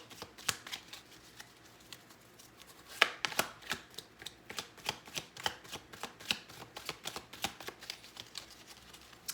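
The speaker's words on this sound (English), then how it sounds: "These cards, because they're heart-shaped, can be a little tricky to shuffle" Heart-shaped tarot cards being shuffled by hand, soft papery riffles and taps arriving in quick irregular bursts, close and quiet with no talking.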